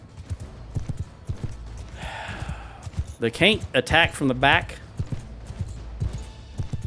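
Horse hooves clip-clop in the Mount & Blade II Bannerlord video game amid a battle with cavalry, the steady footfalls mixed with game noise and occasional whinnies while someone talks over much of it.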